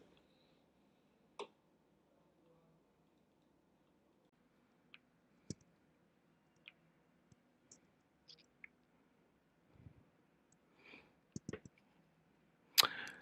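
Scattered computer mouse clicks while working on a page editor, sharp isolated ticks spaced irregularly over near-silence, with a cluster of quicker clicks and a louder click near the end.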